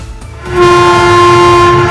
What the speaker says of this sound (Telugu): రైలు బండి బయలుదేరింది